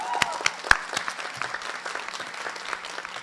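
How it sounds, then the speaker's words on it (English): Audience applause at a nurse pinning ceremony, scattered claps with a few sharp individual hits standing out, moderately loud in a large room. "I think you all should give them a huge round of applause"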